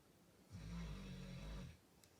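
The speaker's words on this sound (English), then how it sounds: "that's Molly snoring" A pet dog snores once, one long drawn-out rasping breath close to the microphone in an otherwise quiet room.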